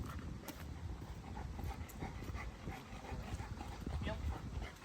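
A 155-pound Presa Canario dog pants steadily and close by, its rhythmic breathing continuous under ongoing speech.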